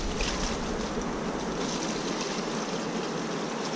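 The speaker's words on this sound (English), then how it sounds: "we're going to get rid of the water here" Water sloshes and pours out of a gold pan beside a river, a continuous soft broadband wash that stays fairly quiet and unbroken, with no talking.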